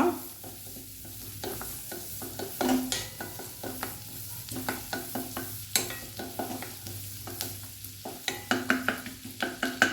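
Finely chopped garlic sizzles in butter over a high gas flame, with a steady close frying hiss punctuated by repeated scraping stir strokes from a spoon against the pan, building in rhythm toward the end.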